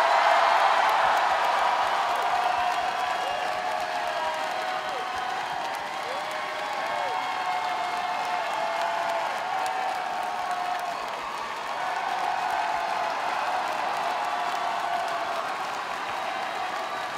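A drag competition finale crowd at a night show applauds and cheers steadily, a wide wash of clapping with whoops and shouts sustained throughout, with a voice faintly heard beneath.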